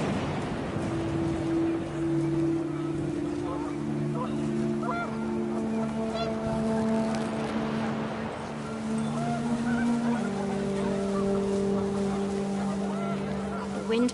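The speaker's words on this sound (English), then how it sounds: "The wind picked up, and panicked geese appeared and quickly went." Geese honk in a panicked, overlapping chorus of sustained, drawn-out calls against a constant wind-like rush in a scene from the video game What Remains of Edith Finch, lasting throughout.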